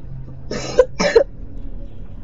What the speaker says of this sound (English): Why do I keep coughing?